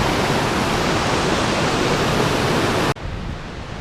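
Rushing water at Chambers Creek falls, a loud, steady, full roar close by that drops abruptly in level near the end as the position changes, continuing softer afterward.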